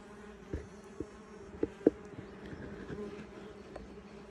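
Osmia mason bees buzz around wooden nesting boards, a soft steady hum from several insects close by, with a few louder passes near the microphone and no talk.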